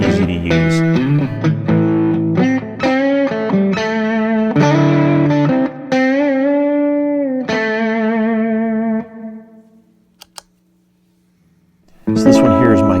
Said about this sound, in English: It's a tight studio room sound. Just really nice, simple reverb, easy to use.